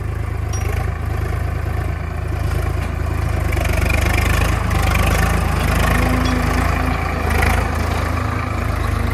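A tractor engine runs steadily nearby with a loud, low, continuous rumble and mild fluctuations in power, without any talk over it.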